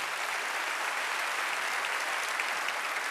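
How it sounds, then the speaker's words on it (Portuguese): A church congregation at a Sunday morning Baptist service gives steady, dense applause with no break, heard from a distance at an even, moderate level. "Vamos aplaudir esses dois aqui."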